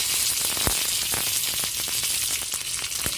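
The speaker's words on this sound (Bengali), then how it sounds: "কারি পাতাটা ভাজা ভাজা হয়ে যাক।" Curry leaves fry in hot ghee with a loud, continuous spitting hiss, dotted with a few crisp pops and stirring clicks.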